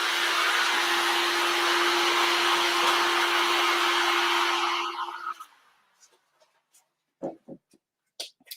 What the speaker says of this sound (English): I heat it with a heat gun, put the glue on, heat it again.